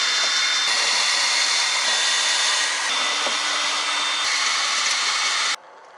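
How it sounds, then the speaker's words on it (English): Power tool with a 7mm socket removing clips from an EcoBoost car during an RTR install, a loud steady high whirring spin for about five seconds that cuts off abruptly near the end. "So we're gonna remove them with the 7mm socket."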